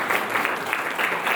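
A congregation at a church service breaks into dense, steady applause, many hands clapping together close by and fairly loud for the whole stretch, with no voices over it.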